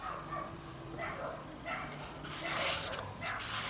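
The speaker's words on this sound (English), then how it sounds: "Do you know what the dogs are barking at?" Dogs bark and whimper in the background of a room, faint and intermittent under a steady wash of noise, with brief soft yips rising toward the end.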